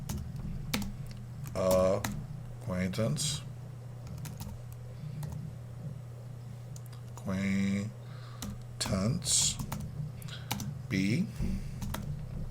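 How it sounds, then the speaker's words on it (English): Lyrics typed on a computer keyboard, bursts of quick close key clicks and spacebar taps between stretches of someone talking, over a steady low hum. "Get the lyric tool and start typing."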